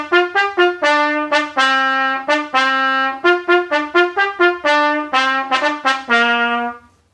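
A trumpet plays Camptown Races at a brisk tempo, a clear run of short tongued notes, loud and close with no talking.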